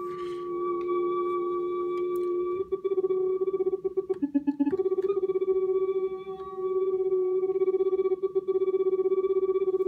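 A voice processed through an ER-301 granular grains unit, smeared into steady, droning tones with a stuttering, chopped burst partway through.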